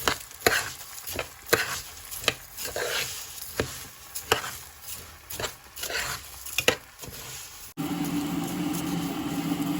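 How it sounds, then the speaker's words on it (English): Rice with two Maggi cubes being stirred in a pot for coconut rice, with a spoon scraping in a run of uneven strokes, close and moderately loud, followed by a steady hiss toward the end. "Then I'll give it a stir."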